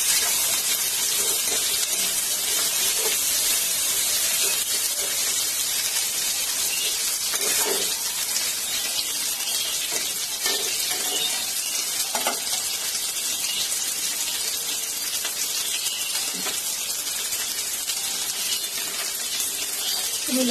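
Dried red chili and cumin fry in a hot kadai with a loud, steady sizzling hiss that stays close and even, broken only by a few faint pops and clicks.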